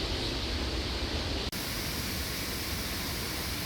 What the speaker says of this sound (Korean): 거대한 바위산 아래를 흐르는 용마폭포